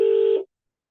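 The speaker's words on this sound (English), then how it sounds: "Mr. Joe Isifo, we are calling you wherever you are hiding" Steady electronic telephone tone heard while placing a call, a single sustained note lasting under half a second before it cuts off abruptly into silence, clear and alone.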